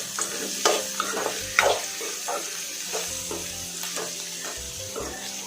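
Bitter gourd thokku stirred and tossed in a frying pan, a spatula scraping in irregular strokes over a continuous close sizzle.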